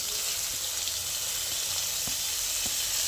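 Onion and tomato fry in hot oil with chili in a pan, a steady close sizzle and hiss with a few faint taps from stirring.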